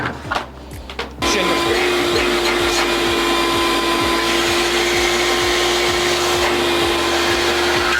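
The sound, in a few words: shop vac running with Oneida Dust Deputy 2.5 Deluxe cyclone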